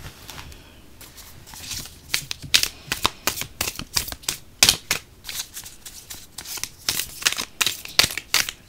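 Tarot cards are shuffled close by in quick bursts of crisp riffling and tapping, loud and irregular in rhythm, with no talking.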